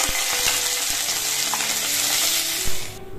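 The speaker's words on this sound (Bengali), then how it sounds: "তো ফুলকপিটা একটু আগে করে ভেজে তুলে নেবো।" Cauliflower pieces fry in oil in a kadai, a loud, dense, close sizzle that holds steady, broken by a few sharp clinks of a spatula before it quiets abruptly.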